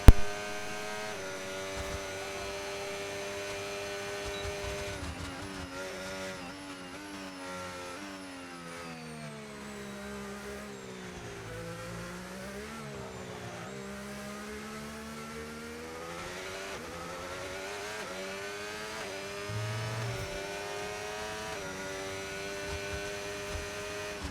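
An Aston Martin race car in a racing video game, heard onboard during a hot lap in China, its engine revving and rising and falling in pitch through gear changes and corners, steady and loud with no talk.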